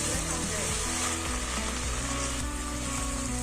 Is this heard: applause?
no